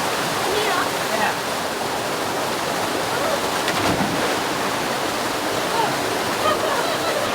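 Creek water rushing over rocks in a continuous broadband wash, loud and close, with no talk over it.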